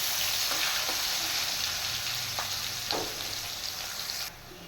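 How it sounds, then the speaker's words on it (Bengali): Onions fry lightly in oil with cumin, dried chillies and bay leaves, giving a continuous close sizzle with occasional stirring taps that eases off slightly near the end. "পেঁয়াজগুলো হালকা ভেজে নেব।"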